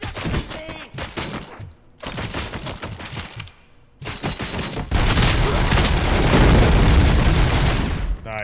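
Gunfire from the Robocop: Rogue City video game begins as rapid, loud bursts broken by short pauses. It then turns into a dense, continuous roar of automatic fire with booming impacts.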